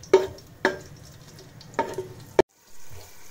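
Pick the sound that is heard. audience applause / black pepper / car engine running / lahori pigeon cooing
black pepper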